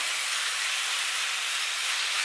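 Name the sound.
chicken sizzling in a hot pan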